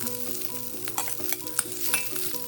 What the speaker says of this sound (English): I'm going to toss in the ginger, not the garlic, just the ginger, and then the onion petals.